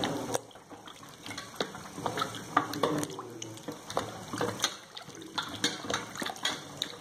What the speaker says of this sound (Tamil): அதனால் வெங்காயத்தை பயன்படுத்தும் போது நமக்கு தேவைக்கேற்ப மட்டும் உரிச்சதை கழுவிக்கொள்ளுங்க.